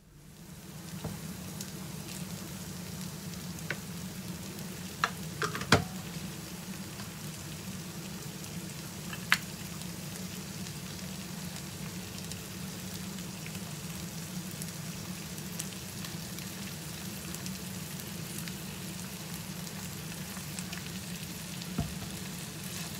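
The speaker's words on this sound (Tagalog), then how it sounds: "haluin lang lahat ng ingredients para magsama-sama yung lasa niya" Taco rice ingredients with tonkatsu sauce and ketchup frying and being stirred in a pan, a steady moderate sizzle with occasional scrapes and taps of the utensil, close and continuous.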